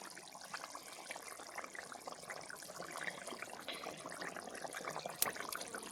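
Tilapia fish curry being poured into a serving dish, a soft, steady liquid trickle and splash, close and fairly quiet with no voices.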